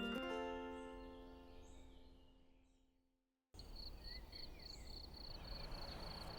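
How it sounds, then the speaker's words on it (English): Steady, high-pitched cricket chirping pulses on continuously over a dense outdoor night background, with faint tonal sounds fading out before it. "Do you hear crickets? I do hear the crickets."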